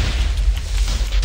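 A Wither explosion in Minecraft gives a loud, low, rumbling boom that fills the brief moment, heavy in the bass with a dull roar and no voices.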